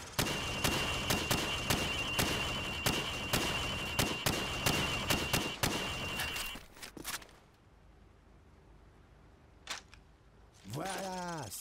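Rapid gunshots hitting pop-up targets on a firing range in Call of Duty 4, about a dozen sharp, evenly spaced cracks over several seconds. Then near silence, a lone shot, and a voice speaking.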